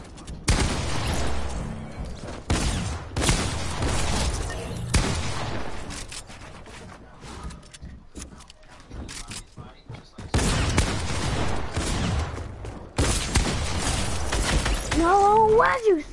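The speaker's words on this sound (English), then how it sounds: "So who is that keep shooting behind me?" Bursts of dense gunfire from a Fortnite match repeat across the stretch, with loud volleys broken by quieter gaps and a voice heard faintly alongside.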